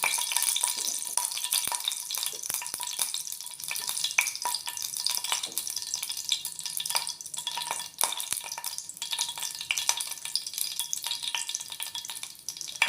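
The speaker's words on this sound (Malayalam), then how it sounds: "കടുക് പൊട്ടി തുടങ്ങി." Mustard seeds crackling in hot coconut oil in a saucepan, heard as a steady bright sizzle with scattered small pops and occasional light stirring, moderately quiet and without voices.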